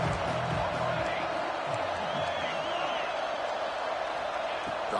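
A college football video game stadium crowd roars steadily on a third down, a dense continuous wall of cheering and whoops.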